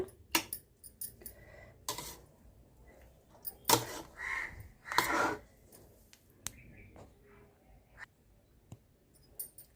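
A spoon clinks and scrapes against a vessel while salted lemon rice (pulihora) is mixed by hand, in scattered sharp taps with quiet pauses between them.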